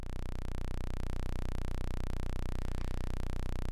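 CLK clock module putting out a 50% duty cycle pulse: a steady, buzzing synthesized tone with a fast, even pulse rhythm, continuous and fairly quiet, no voices.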